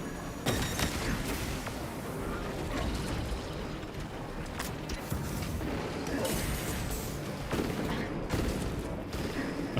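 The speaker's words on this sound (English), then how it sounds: "Oh, it's a mortar enemy." A mortar enemy firing in the video game Space Marine 2, heard as heavy booms and crashes with clanking mechanical noise in a busy, continuous battle mix.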